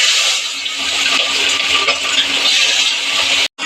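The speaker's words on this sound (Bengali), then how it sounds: "এবার ভেজে নেব।" Tangra fish rubbed with salt and turmeric fry in hot mustard oil in a wok, a loud, close, steady hissing sizzle that cuts off abruptly near the end.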